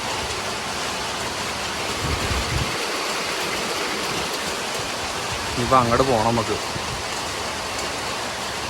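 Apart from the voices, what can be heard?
heavy rain in a forest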